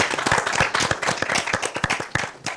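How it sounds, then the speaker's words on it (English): Applause for a speaker introduced on stage at a live event, a crowd clapping loudly and close with distinct sharp individual claps standing out in an uneven rhythm. "So a round of applause for Eko."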